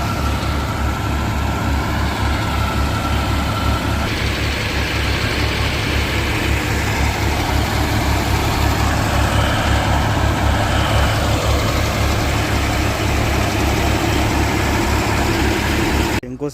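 Several tractor engines run steadily to pump water out of a flooded building site, a loud, continuous low diesel drone with a pulsing rumble that holds unchanged throughout.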